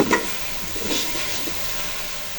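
Okra sizzles and crackles steadily in a hot pan, with a brief stir near the start, no voices.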